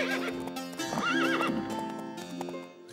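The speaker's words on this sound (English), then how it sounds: "The prince rode to the castle on his horse." A horse in an animated children's fairy tale about a prince riding to a castle whinnies loudly in a wavering neigh while its hooves clip-clop steadily underneath.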